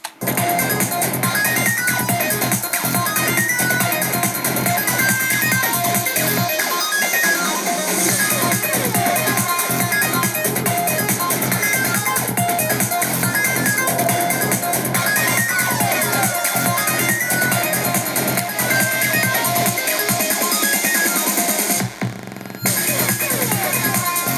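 An electronic track playing with all its layered parts combined, a dense, steady full mix running throughout, with brief drops in the low end near the middle and end.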